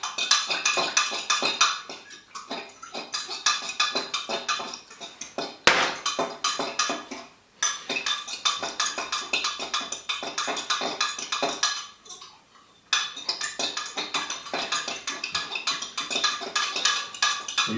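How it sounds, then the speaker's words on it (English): A small spoon stirs sugar and yeast in a bowl for bread dough, giving a steady run of close, rapid clinks and scrapes that pause briefly twice before resuming. "I'm going to be mixing this"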